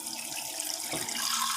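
Tap water runs at a gentle low flow into a glass, a steady close splashing trickle heard alone.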